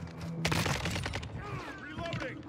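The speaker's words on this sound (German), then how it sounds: "Ja, das war ein Luftschlag" An airstrike explosion in the shooter game Call of Duty: Modern Warfare, a sudden loud burst with crackling debris and gunfire, followed by scattered shots and a voice speaking.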